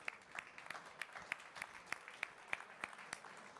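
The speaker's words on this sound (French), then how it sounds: "On peut les applaudir." Applause at a dental forum award ceremony for a ceramics olympiad final: faint, sparse claps in a fairly regular beat, a few hands at a distance rather than a full crowd.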